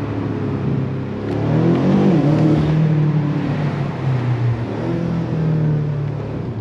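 BMW M5 Competition LCI 2022 sedan with a 4.4 V8 under light throttle while driving over a city bridge, a steady loud engine drone rising and falling in pitch, heard from inside the car with no talk.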